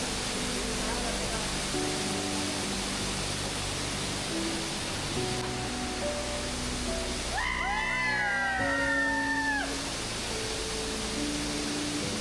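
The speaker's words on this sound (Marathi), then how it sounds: "कोकणात आमच्या गावामध्ये धबधबा आम्हाला सापडलेला आहे." Waterfall at Pendhari village in the Konkan region, a loud, steady broadband roar of falling water filling the whole clip, with people talking faintly over it.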